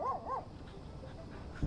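A dog in the video game Oxenfree II whimpers twice in quick high-pitched rising whines, followed by faint quiet background and a soft low thump at the end.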